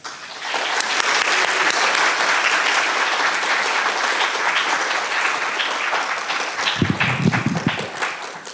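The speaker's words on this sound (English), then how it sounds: "Well, that's a good clapping." An audience at a Tuesday evening lecture applauds steadily to welcome the lecturer, a dense, sustained wash of clapping that fills most of the stretch, with a low rumble near the end.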